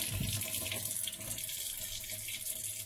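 A running kitchen tap pours steadily into a sink as a handful of blueberries is rinsed under the stream, a continuous close, full rush of water with no voices.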